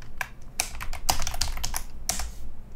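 Keys clatter on a computer keyboard as a short name is typed in, a quick uneven run of close, crisp clicks with brief pauses between bursts.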